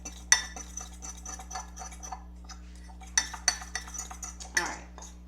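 A spoon clinks and scrapes against a mug while dry mug cake ingredients for a Mexican hot chocolate mug cake are stirred, close and sharp with irregular taps and scrapes over a low steady hum.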